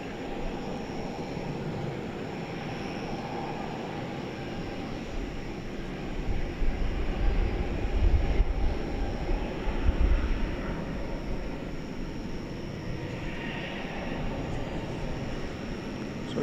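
An American Airlines jet rolls down a DFW runway on departure, its engine roar a steady, broad rumble at middle distance that swells and holds for the whole stretch.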